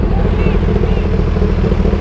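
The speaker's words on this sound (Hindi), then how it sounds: "रेव कर रहा हूं मैं, हाँ कर ही रहा हूं, ये आवाज रेव की है।" A stock-exhaust Suzuki Hayabusa superbike revs up close, a steady loud engine roar that holds for two seconds with no breaks.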